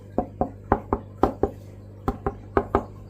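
Knuckle knocks on a speaker cabinet built with screw supports and bridging baffles, about eleven sharp hollow raps in an uneven rhythm, close and fairly loud with no talking.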